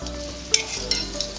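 Chicken frying in a pan gives a short burst of sizzle with a few sharp spatter or stirring pops over a low steady hum, brief and fairly quiet.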